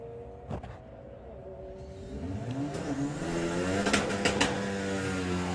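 A VW drag racing car revs during national finals eliminations at Santa Pod. The engine note climbs and swells at moderate distance, with a few sharp bursts near the end, and no voices are heard.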